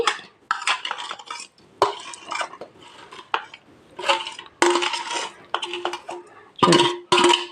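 Lemon pickle made from twenty lemons is mixed in a metal vessel. A spoon scrapes and clinks against the sides in uneven bursts with brief pauses between them, close and clear, with no talking.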